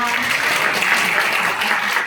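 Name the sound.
audience applause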